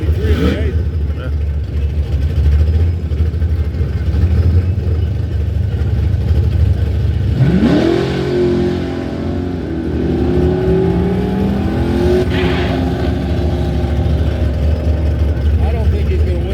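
A Dodge drag truck launches at a drag strip, its engine roaring loud and near as it revs and strains for boost. A second surge sweeps up partway through, with commentators talking over it.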